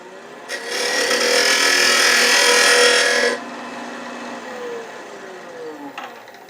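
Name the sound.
wood lathe turning a tenon on wooden tulip blank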